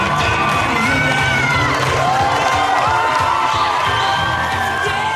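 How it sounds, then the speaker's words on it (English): A studio audience roars with cheers, whoops and shouts for a dance on a reality television show, loud and sustained throughout with scattered yells over the steady crowd noise. "The crowd went wild for Thomas's dance"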